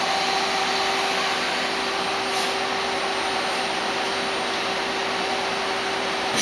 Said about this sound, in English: This is a videotape inspection of a Citizen M16 CNC Swiss lathe.